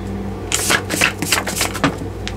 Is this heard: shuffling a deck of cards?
yes